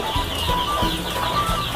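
Chickens cluck on a farm housing about 2,200 birds, with a dense chorus of overlapping clucks and calls at moderate distance that keeps going throughout, and no talk.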